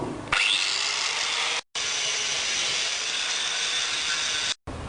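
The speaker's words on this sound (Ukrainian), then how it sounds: "Вирізавши отвір в трубі, зачищаємо його навкруг." A power tool grinds around a hole cut into a metal pipe during welding work, a harsh continuous abrasive whir that cuts out briefly twice, loud and close with no talking.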